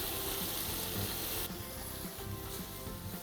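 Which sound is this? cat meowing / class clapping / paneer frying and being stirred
paneer frying and being stirred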